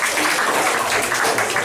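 Comedy club audience clapping as performers are called to the stage, a brief, fairly loud burst of dense applause that stays even for its short length.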